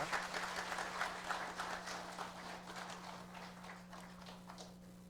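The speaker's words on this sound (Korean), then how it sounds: "우리 큰 박수로 환영해 주시기 바랍니다" A Korean church congregation at a New Year's Eve service claps to welcome a pastor forward, a soft, distant patter of many hands over a steady low hum, gradually thinning out.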